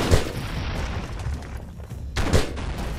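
Gunfire from the side-scrolling action game Broforce: dense, continuous shooting and explosive bursts, loud and close, with heavier booms near the start and toward the end and no talking over it.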